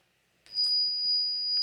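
A phone rings with an incoming call, a sustained electronic ringtone tone starting abruptly and holding steady and fairly clear, with no talking over it.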